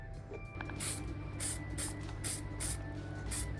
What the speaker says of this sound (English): Now that we've done our spray painting